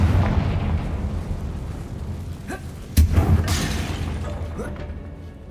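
A crackling magical blast from the Confringo spell bursts with a sharp boom mid-way, over a rumbling, noisy background with scattered crackles.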